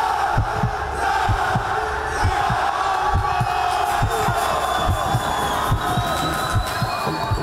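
Stadium crowd of about 70,000 at a football match, a dense loud roar with rhythmic thumping beats like drumming or stamping throughout, steady and enveloping.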